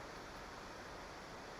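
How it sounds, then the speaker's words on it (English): A steady, faint broadband whir of an overheating laptop's cooling fan, constant hiss without breaks, no voices. "That's the sound of my laptop slowly dying on me, of heat exhaustion"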